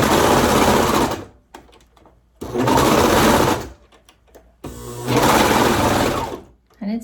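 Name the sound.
serger rattling while sewing through thick fabric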